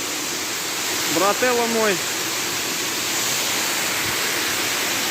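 A cooling waterfall pours in a steady, full roaring rush of water that fills the whole scene, close and unbroken, while someone speaks briefly over it.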